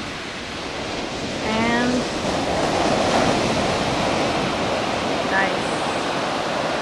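Ocean surf washes steadily onto Avila Beach at night, a constant broad hiss that swells slightly after the first couple of seconds, with a few faint chirps above and a brief spoken voice.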